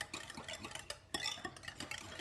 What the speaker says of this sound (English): We mix everything together.